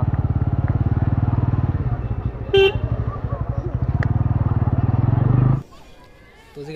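A motorcycle rides along a road in Guwahati near a temple, its engine pulsing loudly and steadily up close. A short horn honk cuts in partway through, and the engine drops away near the end as voices come in.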